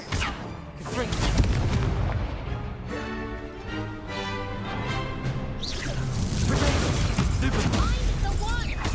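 Confringo fire blasts in Hogwarts Legacy gameplay erupt as heavy booming explosions over a rumbling, crackling battle, with sustained loud low-end impacts and tonal spell effects throughout.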